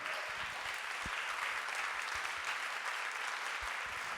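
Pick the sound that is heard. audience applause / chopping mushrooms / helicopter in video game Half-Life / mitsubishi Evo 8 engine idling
audience applause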